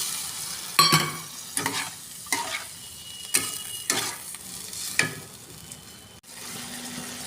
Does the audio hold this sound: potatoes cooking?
yes